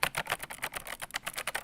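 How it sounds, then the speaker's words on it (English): Rapid clattering keystrokes on a Nintendo-based keyboard, a quick irregular run of crisp clicks close to the microphone, with no talking. "Now this is a keyboard."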